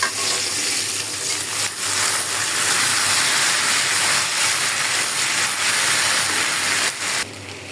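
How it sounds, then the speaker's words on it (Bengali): Spiny gourd frying in a pan gives off a steady, close, bright sizzling hiss that carries on without a break, with a few faint clinks and no speech. "এখন আমি কাঁকরোলটা একটু হালকা করে ভাজা দিব।"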